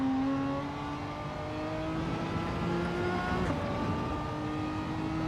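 Renault Megane race car engine in Gran Turismo 7, a steady, loud mechanical drone with a strong rising and falling tone that holds throughout, with no voices.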